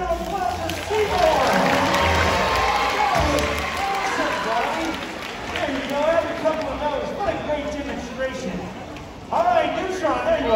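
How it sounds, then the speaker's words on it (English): An audience at a SeaWorld Orlando sea lion show applauds for a sea lion named Seymour; the clapping blends with an announcer's voice talking over it and swells again near the end. "How about a nice round of applause for Seymour?"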